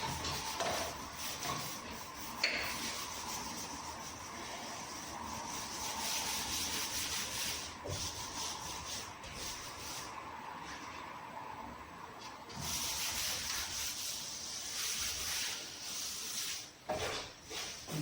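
Wood being rubbed down by hand with fingers and thumbs while building a modern staircase, a steady close dry rubbing and scuffing that runs continuously with small bumps and brief pauses.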